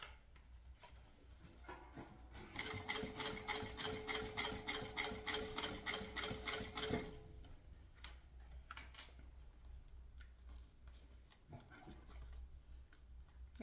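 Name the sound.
sewing machine stitching a synthetic pouch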